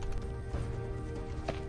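Horse hoofbeats clip-clop at a steady riding pace in World of Warcraft: Legion, a continuous moderate-level gait with no talk over it.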